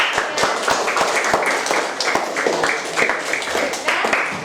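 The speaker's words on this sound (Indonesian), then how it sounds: "Tepuk tangan untuk" Classroom audience clapping after a student reads a creative fantasy story, a steady patter of many hands at moderate distance with some murmuring voices mixed in.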